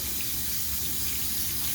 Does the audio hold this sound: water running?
yes